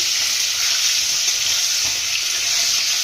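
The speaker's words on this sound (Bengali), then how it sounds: "একটু ভেজে নেবো ভালো করে মানে একদম লাল করে ভাজবো না" Potatoes seasoned with turmeric and salt fry in hot oil for a rohu fish curry, giving a steady, loud, continuous sizzle that holds without a break.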